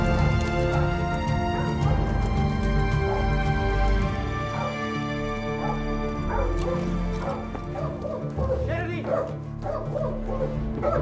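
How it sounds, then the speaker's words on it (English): A pet dog barks and yips excitedly in a film scene, over a dense bed of music. The barking is repeated and insistent throughout, with voices mixed in. "He's barking like crazy."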